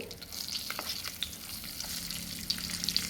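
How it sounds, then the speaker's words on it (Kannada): Flour frying in ghee on low heat for a white sauce, a dense continuous hiss and crackle with light stirring taps, close and steady without speech. "ಇದನ್ನು ಮಿಕ್ಸ್ ಮಾಡುವ. ಚೆನ್ನಾಗಿದು ಫ್ರೈ ಆಗಬೇಕು. ಚೆನ್ನಾಗಿ ಫ್ರೈ ಆಗಲಿ."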